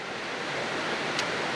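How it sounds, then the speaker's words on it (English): Heavy rain pours down in a steady, dense hiss, constant and even throughout the short stretch, with no voices. "it's raining. It's starting to really pour."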